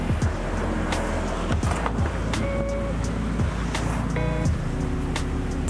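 A Hyundai Stargazer family car on a test drive produces a steady road and engine rumble from inside the cabin, with occasional bumps and thuds over the surface.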